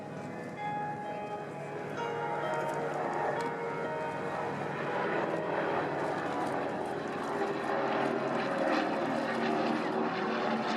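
Steady propeller aircraft drone as a Douglas DC-3 airliner passes overhead at an air show, a continuous broad roar that stays loud throughout with no speech.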